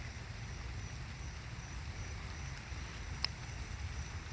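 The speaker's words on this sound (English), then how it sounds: "A lot of rain." Heavy rain pours steadily through a storm, a constant hiss with a low rumble underneath and one brief sharp tap near the end.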